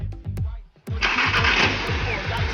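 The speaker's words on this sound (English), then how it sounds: "unplug it, and you start her up" A car with its diverter valve sensor unplugged: the starter cranks in a quick rhythmic chug, then the engine catches and settles into a loud, steady, raspy idle close by, with a voice briefly at the start.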